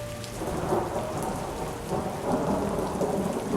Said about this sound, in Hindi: बहुत बारिश हो रही है